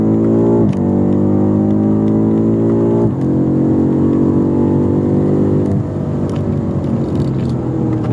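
BMW F90 M5 Competition, a 617 hp sedan, accelerates hard from inside the cabin, its engine note climbing steadily through three gears with brief dips at each upshift, loud and close.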